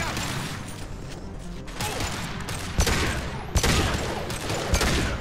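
Heavy pistol fire in Mass Effect 2 sounds in a dense firefight, with sharp shots around 2.8, 3.6 and 5 seconds standing out over continuous battle clatter and mechanical noise.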